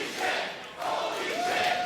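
Arena crowd at a Maple Leaf Pro Wrestling main event roars and cheers in a continuous swelling wash, dipping briefly before rising again, with no clear speech on top.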